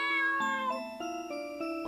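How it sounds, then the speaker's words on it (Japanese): A cat meows in the Chloe's Requiem horror game, a sustained, tonal, drawn-out mewing cry that wavers in pitch in several steps, clear and up close with no talk. "ついに出てきた猫！"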